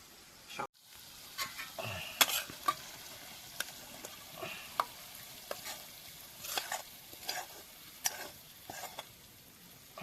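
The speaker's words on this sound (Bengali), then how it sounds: "আর একটু সময় এরকম ভেজেই নামিয়ে নিলে হয়ে যাবে" Chicken skin frying in oil, a steady close sizzle with repeated stirring and scraping strokes in an uneven rhythm, fairly quiet overall.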